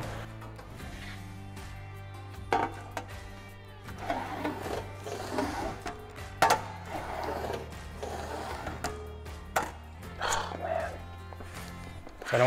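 An English wheel rolls and shapes a metal patch panel for rust repair on a 1960 Cadillac, giving quiet repeated rolling passes with a steady mechanical hum, occasional knocks and some talk.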